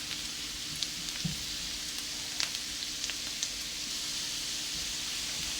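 Onions frying in oil until browned for an Old Dhaka-style khatua: a steady, even sizzle close up, with scattered small pops and stirring clicks and no talking.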